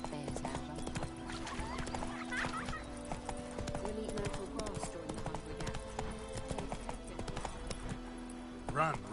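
Roach the horse gallops in The Witcher video game, a steady run of clip-clopping hoofbeats over layered game music, with a brief whinny-like burst near the end.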